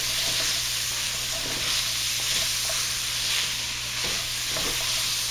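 Yellow squash and pasta being stirred in a thick cast iron pot, with steady soft scraping and bubbling that carry on throughout, close and fairly loud, with no talking.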